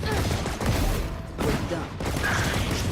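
Weapon reload in the tactical shooter Valorant: mechanical clicks and ratcheting clacks over a dense layer of gunfire and game noise, all fairly loud and busy.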